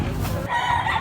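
A grey gamefowl rooster crows once, close and fairly loud, over a noisy outdoor background.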